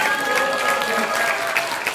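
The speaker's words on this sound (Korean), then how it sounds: "네, 다시 한번 박수 부탁드리겠습니다." Clapping from a crowd gathered at a launch ceremony for an election-monitoring group sounds as a continuous, fairly loud patter, with a steady tonal hum running beneath it.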